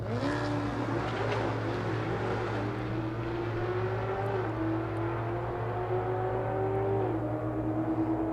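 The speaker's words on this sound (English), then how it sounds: "Both race cars hustling down the track." Race cars run by Catherine in a 917 and Paul Beckwith in a 991 at roughly 150 and 139 mph in a Lonestar Rivals event, with a steady, continuous engine drone that rises and falls in pitch as they hustle down the track.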